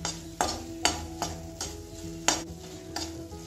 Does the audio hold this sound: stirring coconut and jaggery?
yes